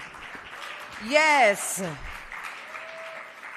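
Sustained crowd applause at the official launch of a medicinal cannabis special permit programme in Jamaica, a steady wash of clapping running under a voice throughout.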